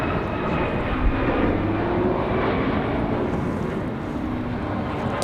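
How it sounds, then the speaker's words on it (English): A Boeing 737 MAX 8 jet departs the airport, its engines producing a loud, continuous roar that holds steady throughout, with no talk over it. "Again, this MAX 8 off to San Francisco."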